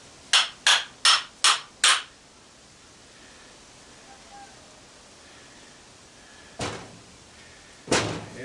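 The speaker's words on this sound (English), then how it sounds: "I don't know if I can just knock that apart with a hammer." An old Super Fan being hammered apart for scrap copper and metal: five quick, sharp metallic strikes in a row, then quiet, then two more heavy blows.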